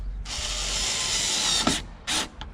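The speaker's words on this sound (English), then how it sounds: "We'll start with our screw. This is just a self-tapper into a plastic bung." A self-tapping screw driven into a plastic bung on an MR2 Roadster taillight, heard as a close, loud ratcheting whir from a driver that runs steadily, then stops and resumes in two short bursts.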